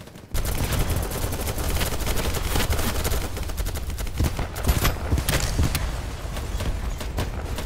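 Dense, rapid gunfire from the video game BattleBit fires almost nonstop after a brief opening silence, loud automatic bursts overlapping in a sustained fusillade.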